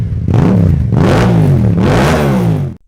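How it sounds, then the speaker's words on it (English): A Triumph inline three-cylinder motorcycle engine revs loudly in three rising and falling surges with an offbeat, gritty note, cutting off abruptly at the end. "A triple has an odd offbeat sound to it that falls somewhere between a 4-smooth sound and a twin slumpy rhythm."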